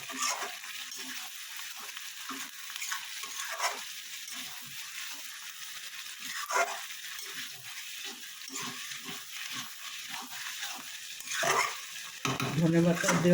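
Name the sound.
egg curry with coriander being stirred in pan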